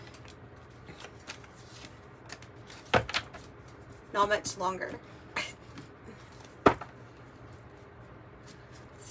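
Soft riffling and flicking of tarot cards being shuffled in a few short bursts, close and quiet, with brief speech nearby over a low room hum.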